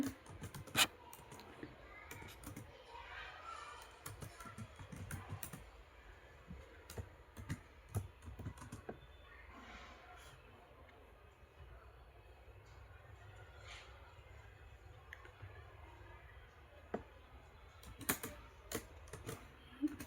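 Keys clatter on a computer keyboard as an SQL query is typed, irregular bursts of close clicks with pauses between, over a quiet room hum.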